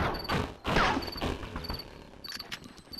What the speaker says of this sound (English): Some fireworks to celebrate.